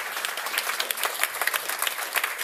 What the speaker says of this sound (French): applaudissez-la quand même